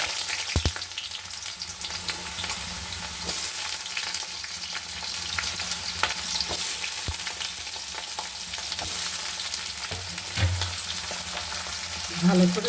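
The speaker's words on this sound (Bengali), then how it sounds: "আলুগুলো আমি ভেজে নেব।" Potatoes frying in hot oil in a wok as part of a home lunch cooking potato dish, a steady close sizzle and crackle throughout with occasional stirring clinks and scrapes.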